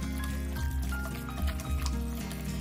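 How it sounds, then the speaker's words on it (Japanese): Hot water is added to Genovese pasta while it is stirred to melt in the cheese, making a soft continuous pouring and sloshing sound over a low steady hum. "お湯を足しながらひたすら混ぜると、"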